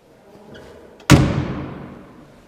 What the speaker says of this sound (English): That's how a door needs to sound when it closes.